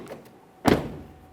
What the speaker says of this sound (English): Go ahead and close the door.